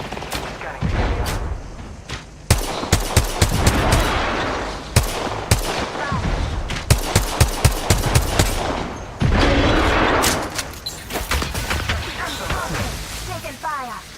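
Apex Legends gunfire crackles close and loud in rapid bursts and single shots, with automatic volleys trailing off, while character voice lines speak over parts of the fight.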